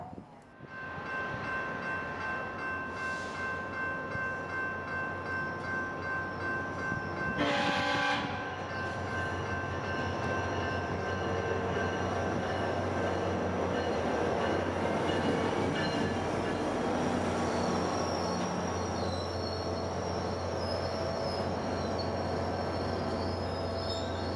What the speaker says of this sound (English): This time it's a northbound, P316, the sister train of the earlier P315.